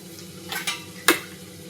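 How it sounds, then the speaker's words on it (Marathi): Potatoes tumble into a salted pan of oil and fry over medium heat, with a soft steady sizzle broken by a few sharp clinks and scrapes of a spoon against the metal. "आता त्याच्यामध्ये बटाटे टाकते"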